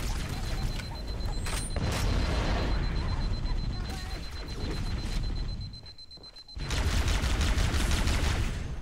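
Dense gunfire in the Halo video game, loud rapid volleys that go on almost without a break, ease off briefly, then return at full strength.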